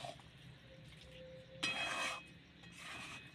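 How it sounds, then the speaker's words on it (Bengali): A spoon scrapes and rubs through soft pasta coated in tomato sauce in a pan, producing a couple of short, quiet rasping strokes with pauses between them. "এবার নেড়ে নেব।"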